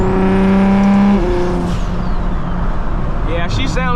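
A BMW 335is with a big turbo drives at night, its engine holding a loud, near, harmonic drone that drops off after about a second into a rougher road rumble, with a short whistling rise near the end.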